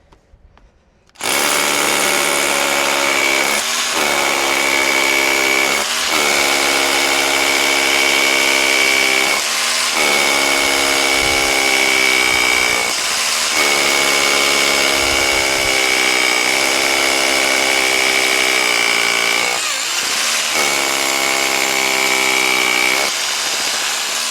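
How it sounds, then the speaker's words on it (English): SDS Plus drill bits bore into brick with a loud, sustained rotary-hammer drone, pulsing and briefly dipping every few seconds across repeated drilling runs, close to the microphone with no talk. "these smaller bits definitely are a bit easier to drill because the hole's quite a bit smaller you're going through"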